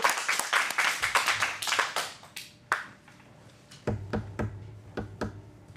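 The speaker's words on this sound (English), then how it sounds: "Let's get a big round of applause" Scattered clapping from a small adult improv class audience in a Phoenix acting studio, a burst of many hands at first, then thinning into sparse individual claps with gaps.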